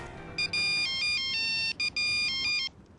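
A telephone rings with a bright electronic ringtone: a quick run of high beeping tones in two bursts, close and clear, with no voices.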